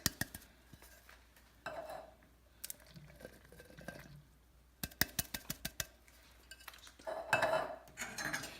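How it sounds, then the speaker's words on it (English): Two cans of natural medium black olives being stirred in a pot, with quiet clinks and scrapes of a utensil against the metal in short bursts between pauses, fairly close and soft, with no talk. "And we'll just stir them up."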